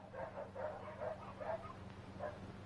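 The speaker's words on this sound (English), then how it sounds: "What's all the barking about?" Several dogs bark and yip in a steady run of short, repeated calls on an old film soundtrack, with a low constant hum beneath them and no talking.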